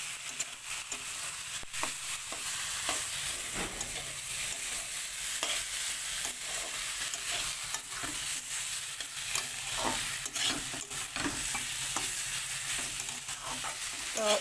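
Khichuri with carrot, potato and radish cooks in a pot, giving a steady close sizzle and bubbling with repeated scraping and clacking as it is stirred, no voices.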